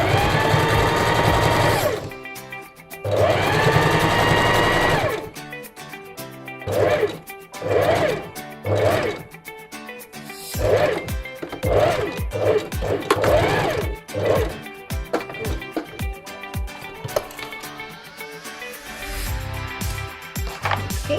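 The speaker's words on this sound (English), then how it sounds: "Continue stitching all the way" A sewing machine stitches all the way around a Chinese dance costume during an alteration, running in repeated short bursts with brief pauses between them, close and fairly loud, with no talking.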